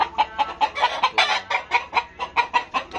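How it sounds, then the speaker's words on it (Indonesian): A champion F1 Filipino rooster on a breeding farm clucks in a steady, rapid series of loud, close calls with no talking over it. "Ini ayamnya."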